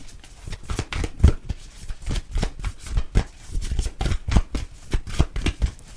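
Tarot cards shuffled by hand, a steady run of rapid riffling flicks and soft slaps repeating across several seconds, close and fairly loud, with no one talking.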